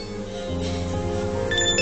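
A phone rings with an incoming call, a steady electronic ringtone melody playing continuously at moderate loudness with no talk over it.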